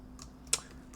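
Typing on a computer keyboard, a few soft key taps with one sharper click in the middle, close and quiet over faint background hum.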